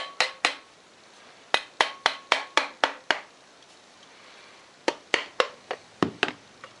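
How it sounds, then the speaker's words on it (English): Sharp hard taps from a small mallet striking a Polaris 400L starter housing to separate it, in quick bursts of several hits with short pauses between groups, close and crisp. "A little mallet here, and just try to tap this apart."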